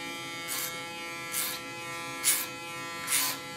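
An electric hair clipper cuts hair at the back of a woman's head for a short grow-back hairstyle, its steady buzz swelling in four brief, evenly spaced passes over a constant faint hum.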